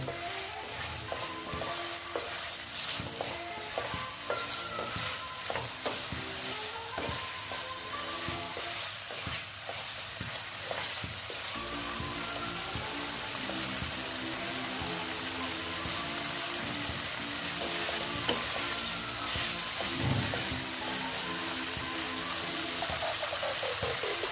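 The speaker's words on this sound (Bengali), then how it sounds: "পনিরের সাথে একটু এটা আমি কষিয়ে নিচ্ছি" Paneer is stir-fried in a pan, a steady close sizzle and hiss with continual stirring and scraping scrapes, lasting without a break and with no voices over it.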